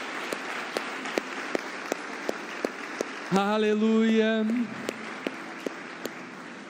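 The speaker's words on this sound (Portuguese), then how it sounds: "Você pode se alegrar, dar uma salva de palmas a Jesus." Church congregation applauding at a worship service, a short burst of clapping that rises and fades while a voice calls out over it and sparse taps sound before and after.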